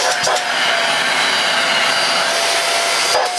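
A Bissell Featherweight Pro 2 in 1 vacuum cleaner runs at steady, loud full power with a constant whining hum and no pauses, close to the listener and with no one talking.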